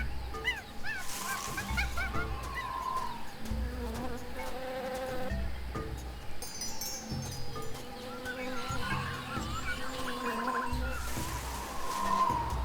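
Jungle ambience from the video game Tales of Monkey Island features a buzzing insect and honking, squawking bird calls. The calls come in bursts over a busy, faint background.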